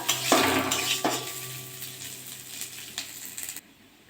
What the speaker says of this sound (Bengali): আমি ডালগুলো দিয়ে দেবো। ভালো করে ভেজে নেবো ডালটা।